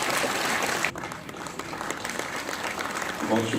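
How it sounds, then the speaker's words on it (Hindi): An audience at an official portal launch event at SKICC in Srinagar claps steadily throughout the short stretch, a dense wash of applause in an indoor hall, with a voice briefly heard near the end. "आपकी जोरदार तालियों के बीच"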